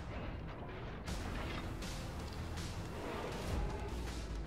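Heavy naval guns boom in World of Warships as the Kurfürst battleship fires a full broadside, dense, rumbling blasts rolling together with a louder swell near the end.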